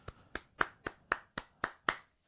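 A single person claps hands eight times in an even, unhurried rhythm, each clap sharp and close, with brief silence between and no voices.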